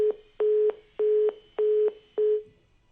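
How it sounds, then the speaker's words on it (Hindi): A telephone line gives a steady low tone after disconnecting: five even beeps with short gaps between them, loud and clear and heard alone. "फोन लाइन डिस्कनेक्ट हो गई है शायद"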